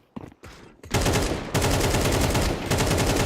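AK rifle fire in the Counter-Strike video game during an esports match: a few scattered early shots, then loud, dense, sustained automatic bursts close up, filling most of the short stretch.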